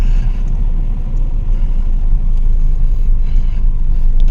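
A 2006 Isuzu D-Max Hi-Lander 3.0 pickup driving in second gear, its engine a steady low rumble with road and cabin noise, close and loud throughout with no talking.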